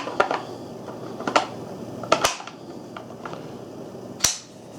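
A Browning SA .22 Grade 1 takedown rifle is put back together, giving sharp metallic clicks and clacks of parts meeting, a few distinct knocks spaced over several seconds, close and fairly loud.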